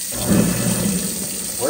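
A newly installed kitchen garbage disposal runs briefly with a rough, churning rumble over rushing water, loud and close for under two seconds.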